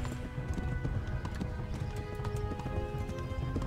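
Horse in the medieval game Kingdom Come: Deliverance, ridden at a fast gallop while fleeing: rapid, close hoofbeats in a steady rhythm, loud and continuous, with a whinny mixed in.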